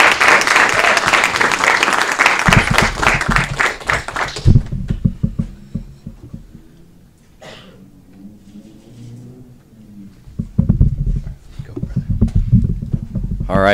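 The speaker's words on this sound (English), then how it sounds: "Give him a round of applause." An audience at an educators' commendation event claps for a school principal, a loud burst of applause lasting a few seconds that cuts off, followed by quieter stretches with voices and some noise.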